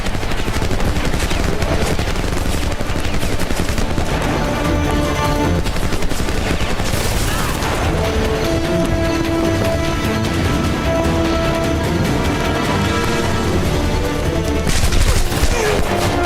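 Rapid machine-gun bursts and other gunfire ring out loud and nearly nonstop during a Homefront combat fight, with dense overlapping shots and a few heavier booms.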